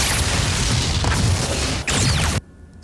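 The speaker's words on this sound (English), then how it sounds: "some lasers, some laser explosions here." Dense, loud laser explosion sound effects roar in continuous bursts, with a brief dip and a sharp sweep before cutting off abruptly into near silence.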